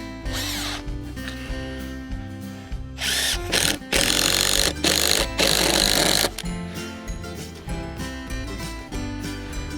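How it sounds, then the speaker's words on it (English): Power drill driving screws into a wooden board at an allotment, with repeated loud whirring bursts of varying length, close by and alone, with no talking. "Get a couple of screws in the back there."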